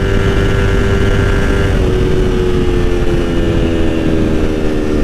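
A Yamaha R3 motorcycle with a flashed ECU drones steadily at high revs, a loud, close, continuous engine tone with a faint pitch shift partway through and no voices.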